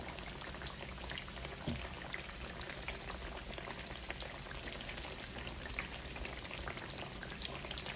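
Homegrown garden squash frying in hot oil gives a steady, dense crackle and sizzle throughout, with a soft knock as pieces are turned over and no voices.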